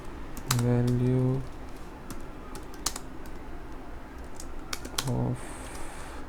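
Computer keyboard keys tapped while writing C++ code, short bursts of quick clicks with a rapid run near the start and another later, under a voice speaking throughout.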